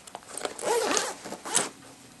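Zipper on a SwissGear Synergy laptop backpack with metal pulls, drawn in a few quick scratchy bursts, close up and fairly loud.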